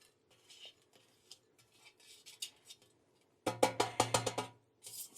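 Plain unseasoned mashed potatoes are spooned into a bowl with soft scrapes and then a quick run of sharp metallic clinks of utensil on dish, close and quiet between taps.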